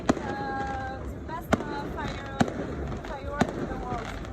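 Fireworks go off in a string of sharp, separate bangs at irregular intervals, with whistling rockets rising between them and people talking throughout.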